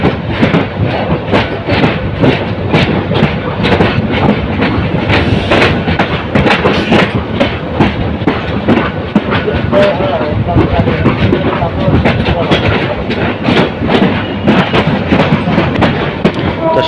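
Mohonagor Provati Express train running past Kamalapur railway station in Bangladesh, a loud, steady rumble with continuous clickety-clack of wheels on rails, heard close up throughout.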